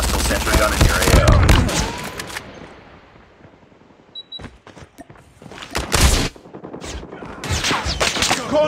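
A hostile sentry gun firing in Call of Duty Mobile: loud bursts of automatic fire that break off into a quiet stretch, then return in further sharp volleys, with a short electronic beep between them.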